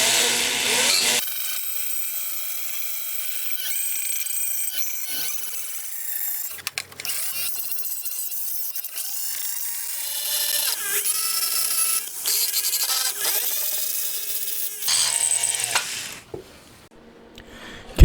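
Power grinder working metal on a handmade 125cc four-cylinder, 16-valve engine case to prep it for welding, a loud continuous whine sustained for most of the clip with brief dips and pauses, close up and without talk.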